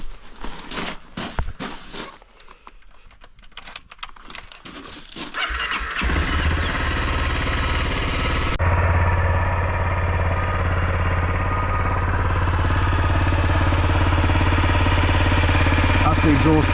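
A Honda 250L motorcycle fitted with a Delkevic header cranks and fires up, turning from scattered mechanical clatter into a loud, steady idling engine rumble that holds close and constant to the end.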